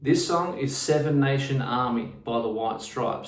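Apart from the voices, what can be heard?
No everyday noises stand out.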